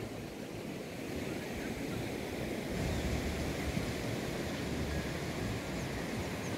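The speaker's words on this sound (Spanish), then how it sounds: "Este es Río Cedro, sus playas." Surf rolling onto the beaches of Río Cedro in Moñitos, a steady broadband wash of waves with wind, swelling slightly louder about halfway through, with no talking.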